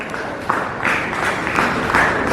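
An audience at a school Republic Day ceremony applauds a student receiving a trophy, a steady wash of many hands clapping at moderate volume for a couple of seconds.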